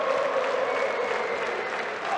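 Hometown arena crowd at an FNC fight night in Ljubljana applauding and cheering for a fighter, a steady, continuous wash of clapping and crowd noise.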